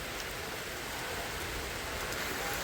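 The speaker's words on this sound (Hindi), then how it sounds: "बारिश देखो कितनी तेज हो रही, तगड़े बारिश हो रही है भाई" Heavy rain pours steadily outdoors beside a large tree, a dense, continuous hiss of drops with no gaps or voices.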